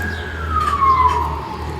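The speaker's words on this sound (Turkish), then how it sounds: "Ambulans sesleri duyarsınız." A loud ambulance siren passes near a house close to a university, its wailing tone sliding gradually downward over steady traffic rumble.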